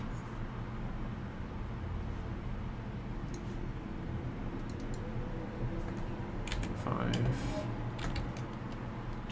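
Typing on a computer keyboard, soft scattered key clicks in a few short bursts over a steady low hum of background noise.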